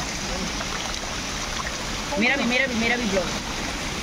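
Water flows steadily in a small cascading mountain waterfall on the way to Kedarnath, a constant rushing wash, with a brief voice speaking over it.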